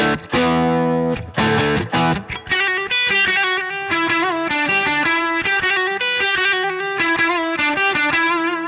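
An electric guitar plays through the UK Invasion preset of a Sonicake Pocket Master, giving a heavily distorted, close tone: a few strummed chords, then a busy run of single notes, with no voices.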